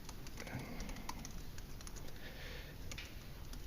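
Rapid typing on a computer keyboard with a quick, irregular patter of key clicks, fairly faint over a background hiss, no talking.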